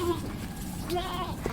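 A goat bleats in a few short, wavering calls close by, heard amid background voices and farmyard noise.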